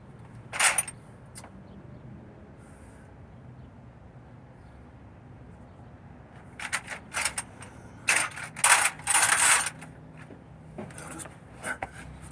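Ratchet clicks and knocks as it works a bolt on a Mercedes diesel van during a clutch replacement on the floor, one early burst and then a cluster of sharp, close taps and rattles toward the end, with quiet gaps between.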